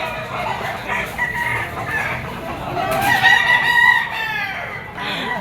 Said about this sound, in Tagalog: Laking manok.